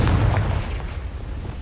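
A Confringo blasting spell explodes in the Hogwarts Legacy video game, a loud booming burst with heavy low rumble that fades over about a second and a half, with no talk.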